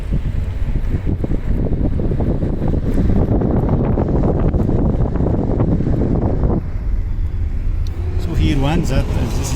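A tractor used to collect refused feed on a large Holstein dairy cattle farm in Turkey rumbles loudly and continuously nearby, with wind buffeting the microphone and a person talking over it.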